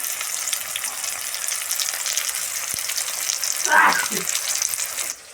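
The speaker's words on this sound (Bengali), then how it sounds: "পেঁয়াজটা দিয়ে দিয়েছি একটুখানি নরম হোক" Onions fry in hot oil in a pan, giving a steady close sizzle throughout, with a brief louder flare of crackling near the end before it cuts off.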